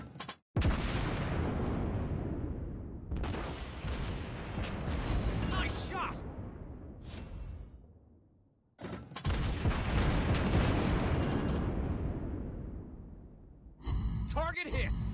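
Naval gunfire in the World of Warships Blitz video game, with the cruiser Helena firing: loud, heavy booming salvos that fill long stretches with rumbling blasts, broken by brief gaps and a sharper burst near the end.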